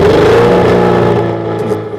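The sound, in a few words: 1981 Volkswagen Rabbit rally car engine revving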